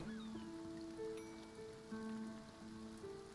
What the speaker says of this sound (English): This is what I call a storm.